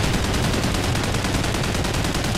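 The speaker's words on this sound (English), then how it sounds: "I'm getting on that LMG." Rapid, continuous fire from an LMG machine gun in Call of Duty Ghosts, loud and dense, rattling without pause for a few seconds.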